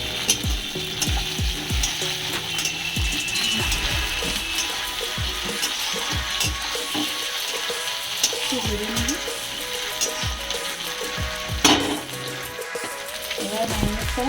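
Tomatoes go into a frying pan with browned marinated mutton, giving a busy, crackling sizzle with stirring scrapes and clatter running throughout.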